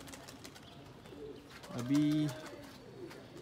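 Pigeons on a rooftop give a short cooing burst midway, moderately close, with low background noise and brief speech around it.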